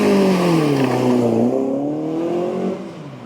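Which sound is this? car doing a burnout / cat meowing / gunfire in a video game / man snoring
car doing a burnout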